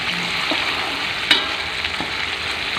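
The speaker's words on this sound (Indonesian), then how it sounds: "Halusnya tak goreng dulu, biarin wangi." Ground spice paste for eggplant balado fries over very low heat, giving a steady close sizzle with a few light stirring scrapes and taps.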